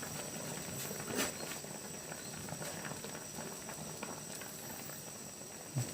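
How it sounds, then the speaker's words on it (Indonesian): Water boils in a cooking pot on the stove while umbut sawit (palm heart) with mangrove snails is being cooked, giving a faint, steady bubbling hiss with occasional soft pops. "sudah mendidih"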